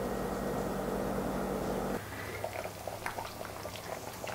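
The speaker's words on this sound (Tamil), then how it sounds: "இப்போ நம்மளுக்கு ஃபிஷ் குழம்பு 10 நிமிஷம் நல்லா கொதிச்சு ஃபிஷ்ஷும் வெந்துருச்சு பாருங்கள்." Fish curry (kuzhambu) simmers in a pot, a steady bubbling hiss that drops to softer, scattered pops and gurgles partway through, faint and with no talk.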